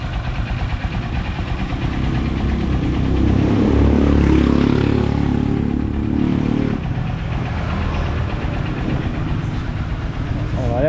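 A Honda Supremo motorcycle engine, just tuned up and given an oil change after developing a ticking noise, idles with a loud, steady, close rumble, and a voice talks over it.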